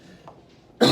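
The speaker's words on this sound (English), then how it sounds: "I really don't know where this cough came from." A single harsh cough bursts out loudly and close at the very end, after a moment of near quiet.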